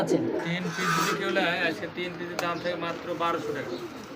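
Domestic pigeons of fancy breeds in a pigeon market, cooing and murmuring up close while people talk over them.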